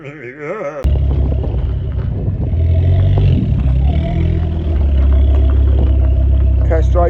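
A tuned Ford Focus ST225 fitted with a Forge actuator pulls away after a quiet moment, its engine rumbling loud and steady with rising revs and some clatter throughout.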